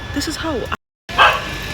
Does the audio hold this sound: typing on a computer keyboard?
no